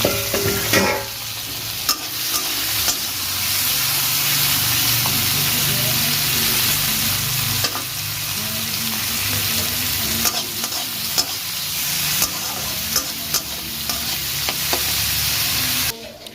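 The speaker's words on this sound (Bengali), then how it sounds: "তোমার এই চিংড়ি মাছটা এখন তেলের ওপরে দেবো" Prawns fry in hot oil in a pan, producing a loud, continuous close-up sizzle and crackle with intermittent scrapes of stirring, ending abruptly.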